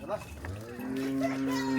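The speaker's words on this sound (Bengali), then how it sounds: "তো এটা হলো ভুট্টি গরু" A Bhutti cow lets out a single drawn-out low moo that rises and holds steady, close by and fairly clear, with faint background noise and no talk.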